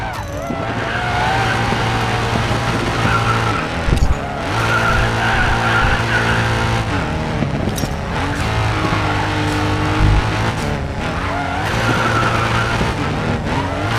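Drifting car in the Racing Master mobile game, repeated bursts of tire screech over a droning engine that rises and drops between slides, with game music running underneath the whole time.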